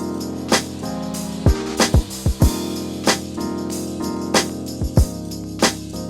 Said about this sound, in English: Now a mono beat would sound like this.